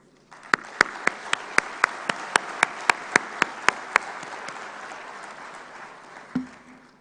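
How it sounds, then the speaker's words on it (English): Closing ceremony of a global policy forum: a dozen sharp, evenly spaced claps lead into a steady wash of audience applause that fades out, ending with a brief thump. "I think we owe ourselves a round of applause."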